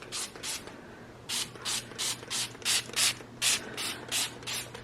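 A pump bottle of room freshener sprays in quick bursts, about a dozen short hissing puffs in a fairly even rhythm, close and clear with no voices.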